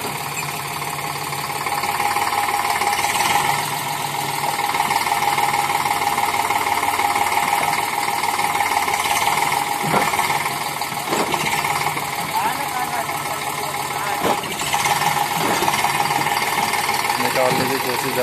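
An Eicher 548 tractor engine labours under a heavily loaded sugarcane trolley, a steady loud knocking diesel drone with rhythmic throbbing, while people talk over it throughout.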